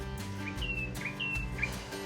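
A few short bird chirps repeat over a steady low engine-like hum, fairly faint against the background, near Nacpan Beach with dirt bikes.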